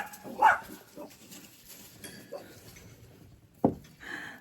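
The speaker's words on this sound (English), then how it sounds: "Coco, what are you barking at?" A pet dog named Coco in a garden barks a few times at some distance, two short sharp yaps near the start and another about three seconds later, over faint outdoor background noise.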